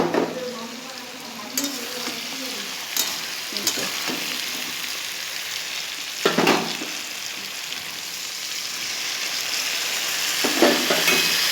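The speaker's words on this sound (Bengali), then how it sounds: "মশলাটা দিয়ে ভালো করে মশলাটা দিয়ে নাড়াচাড়া করে নিয়েছি" Spice paste is stirred into a fish and potato curry in a pan, with a steady sizzle and scraping stirs, a few sharper spoon-strokes standing out against the frying.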